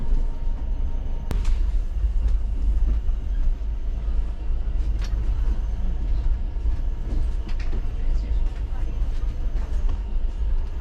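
A moving Southern Railway AC 3-tier carriage between Ratnagiri and Mumbai gives a continuous low rumble with faint rattles and an occasional sharp clack, steady and close.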